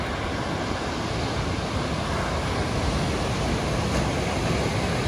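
Ocean surf washing steadily along a coast under wildfire smoke haze, a continuous broadband roar that stays loud and even from start to end, with no voices.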